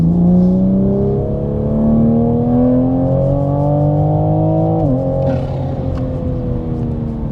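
A Toyota Supra pulls hard under acceleration, its loud, close intake note climbing steadily through the rev range before a brief dip at a shift, then rising again, with no talking over it.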